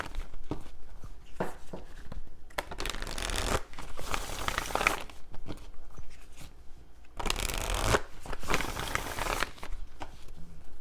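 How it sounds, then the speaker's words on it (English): A deck of tarot cards is shuffled and cards are drawn in quiet indoor surroundings. Soft riffling and sliding bursts come close up in irregular clusters, with two longer, louder shuffles and no speech. "let me just get one final card here"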